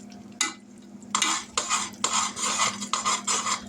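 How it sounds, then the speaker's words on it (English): Hot pecan brittle candy being stirred in a pot as baking soda goes in, with a spoon scraping and clattering against the metal in several bursts over a steady low hum. "Alright, time to pour in some baking soda."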